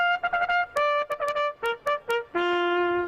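Churchill Downs bugle call sounded before the Kentucky Derby, a solo brass fanfare of crisp staccato notes climbing and falling, ending on a long sustained low tone, loud and close.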